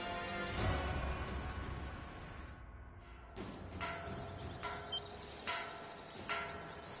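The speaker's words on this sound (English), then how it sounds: "A warning bell." A warning bell rings aboard a ship in a video game, with a few ringing strikes spaced out over a dense background rumble and whooshes, fairly loud and without speech.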